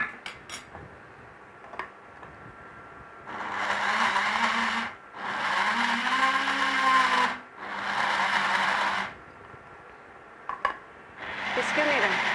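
A kitchen blender grinds soaked rice with yogurt in loud, steady bursts of motor whine, stopping and restarting several times with brief quiet gaps and light clinks in between.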